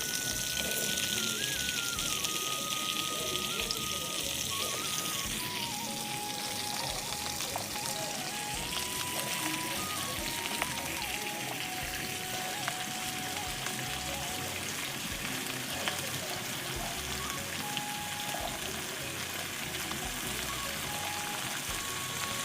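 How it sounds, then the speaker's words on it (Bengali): Onion stalks fry in hot oil, giving a continuous dense sizzling hiss, close and even from start to finish, with no speech. "পেঁয়াজ কলিটা ভেজে নাও"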